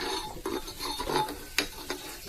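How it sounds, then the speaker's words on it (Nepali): Cow dung slurry churned with water for a biogas plant gives wet, squelching stirring strokes in short repeated bursts, close by and with no voices. "यसरी हल्लाएर यसलाई लेदो निकालेपछि पुरै पुरिँदैछ"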